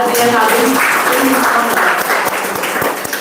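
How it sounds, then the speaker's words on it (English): Applause from a webinar audience greeting a speaker at a legal advocacy and research event, a steady, loud wash of clapping with voices murmuring underneath throughout. "please give him a big round of applause"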